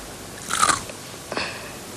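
Two crisp, close bites into thinly sliced potatoes fried in vegetable shortening, each a short crunchy crackle, separated by a brief pause.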